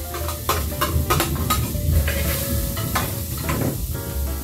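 Crushed garlic and oregano hit a very hot pan and sizzle steadily, with sharp crackles and the scrape of stirring utensils punctuating the continuous frying hiss.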